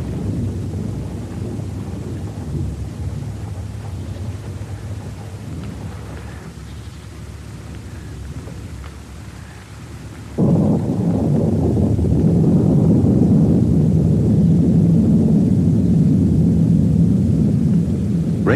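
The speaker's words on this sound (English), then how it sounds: "A cluster of puffballs awaits the heavy drip of rain percolating through the woodland canopy." Heavy rain drips and patters through a woodland canopy in a dense, continuous rumbling wash that swells louder midway, with gusty low wind noise beneath.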